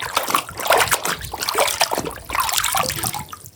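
A toy vehicle is washed in water: continuous close splashing and trickling with uneven dribbles and sloshes, loud and steady with no talk.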